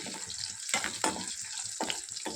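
Green chilies and dried red chilies fry in oil, giving a soft, continuous hiss broken by several brief louder crackling bursts.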